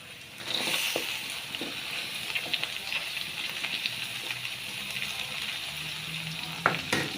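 Cabbage stir-fried with pork strips and onion sizzles steadily in a pan, a close hissing fry with scattered scraping and stirring clatter throughout.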